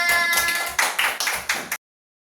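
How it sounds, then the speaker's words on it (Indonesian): Students in an economics class on the capital market clap in a few sharp, loud bursts, close by, then stop abruptly into silence. "Oke, tepuk tangan."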